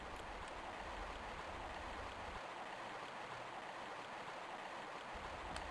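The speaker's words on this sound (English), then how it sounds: "jump back and forth across the river here without falling in, because the water will just whisk us away to the bottom of the waterfall again" River water in Tomb Raider I Remastered's Lost Valley rushes steadily toward a waterfall, a quiet, even hiss of flowing water with a low rumble that drops out partway, no voices.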